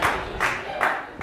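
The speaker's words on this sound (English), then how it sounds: "I thought that might get some applause." An audience at an onstage conversation event claps in three swelling bursts, the applause moderately loud and filling the hall briefly.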